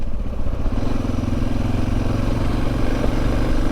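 A Suzuki DR650 motorcycle engine drones loud and close in a continuous rough, throbbing run while riding, with no talk over it.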